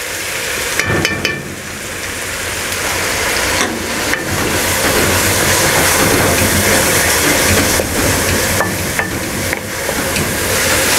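Chopped onions frying with ginger garlic paste in a pot for egg korma, a loud continuous sizzle and hiss with occasional spoon scrapes, close up and steady throughout, no talking.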